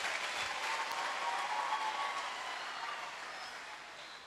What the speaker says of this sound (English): Shall we clap for Jesus?